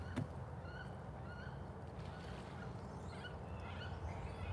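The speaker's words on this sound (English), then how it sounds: "I heard the wood ducks. I just disturbed them." Wood ducks calling from a wooded trail, a few faint squeaky calls scattered over steady low background traffic rumble from a nearby highway.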